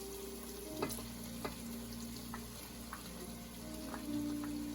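Okra and onions fry gently in a pan, a faint steady sizzle broken by a few sharp clinks of stirring under a low background hum.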